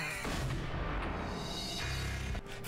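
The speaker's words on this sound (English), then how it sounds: "And there's people shooting at me as well." Gunfire in the Max Payne shooter game comes as heavy, booming shots layered over a dense rumbling bed, loud and close, with a sharp burst near the end.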